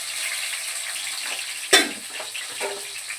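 Green chilies dropped into hot oil for fish pulusu give a sudden loud crackling burst midway, then a fizzing sizzle that settles back into a steady hiss.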